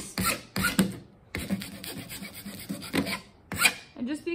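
Harsh rasping scrapes as a tool works up and down along the edge of a drypoint plate, close and loud in repeated irregular bursts with brief pauses between them.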